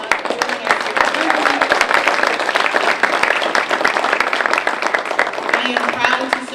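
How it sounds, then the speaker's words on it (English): A Veterans Day celebration crowd applauds the veterans, a dense, lively clatter of many hands that holds steady, with faint voices mixed in. "Veterans, can we please give a round of applause for them?"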